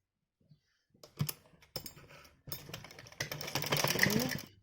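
A sewing machine stitches fabric for a top in short, close bursts of rapid clicking needle action that grow louder and more continuous toward the end.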